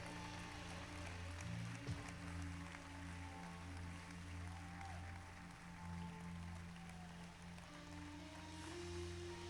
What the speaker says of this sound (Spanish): El que lo crea, dele un aplauso fuerte.